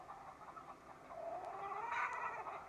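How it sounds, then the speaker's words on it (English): Farm chickens cluck and chatter softly and steadily at a distance, with overlapping calls that swell a little toward the end against a faint outdoor background. "Chickens are pretty noisy birds,"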